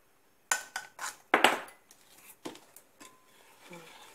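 Flour and yeast are stirred by hand for beignet dough in a home kitchen, with a string of close, clattering knocks and scrapes against the bowl, loud at first and then lighter and more irregular.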